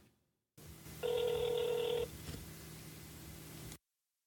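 A single ring tone sounds over a phone line during a call to customer support, set against a steady low line hum that cuts off abruptly.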